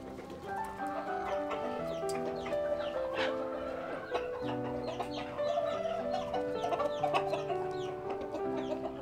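Chickens on a poultry farm cluck steadily and close by, with a rooster calling among them and overlapping bird calls filling the whole stretch without any talk.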